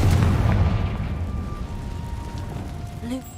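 A Confringo spell from Hogwarts Legacy goes off in a deep, rumbling blast that starts loud and decays into a fading roar, with no speech over it.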